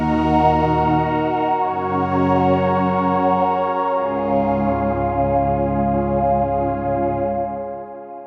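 Huge, sustained synthesizer pad, layer C with the Harmonia feature adding two extra oscillators panned left and right, playing loud, wide chords that shift every couple of seconds and fade slightly at the end, with no voice over it.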